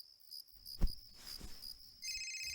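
A telephone ringing indoors at night, a steady high electronic trill running through the quiet alongside insect-like chirping, with a few soft thumps and a louder ring starting near the end.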